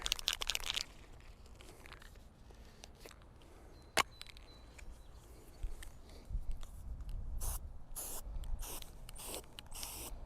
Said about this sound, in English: we're going to spray paint this circle on the ground so we know how big to dig